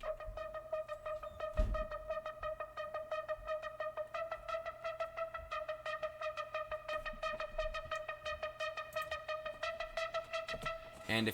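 A neurofunk synth preset built from a detuned saw wave run through a filter and heavy distortion effects gives a sustained buzzing tone with steady rhythmic pulsing that grows gradually more intense.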